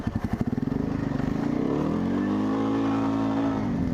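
Quad bike engine idling up close, starting with a few loud chugging pulses that settle into a steady, rumbling idle throughout.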